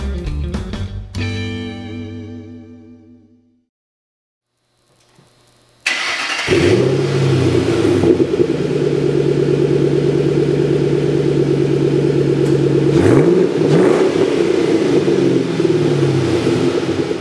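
An engine cranks and dies away, then after a pause a 2006 Ford Mustang GT's 4.6-liter V8 fires up and rumbles loudly, with a throaty rev swelling partway through.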